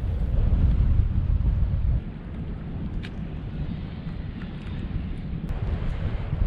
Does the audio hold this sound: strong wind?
yes